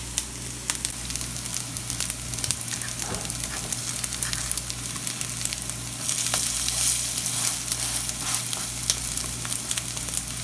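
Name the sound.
cutlets frying in a pan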